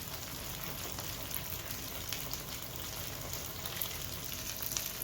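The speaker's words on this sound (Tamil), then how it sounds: "நீங்கள் ஃப்ரை பண்ணும்போது எப்போவுமே ஃப்ளேம் வந்து ஹையில் வச்சு பண்ணுங்கள்" Idli pieces deep-frying in hot oil over a high flame, producing a steady, hissing, rain-like bubbling sizzle that holds constant throughout at moderate volume.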